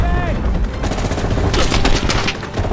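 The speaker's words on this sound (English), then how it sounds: "Who's shooting me?" Gunfire in Call of Duty: Black Ops Cold War on PS5: dense rapid bursts of shots, loud and close, crackling continuously for a few seconds under some game noise.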